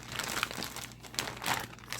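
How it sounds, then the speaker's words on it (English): A plastic Ziploc bag holding pork chops in buttermilk is handled and massaged, giving soft close crinkling and rustling for about two seconds without talk. "seal and massage the bag to coat"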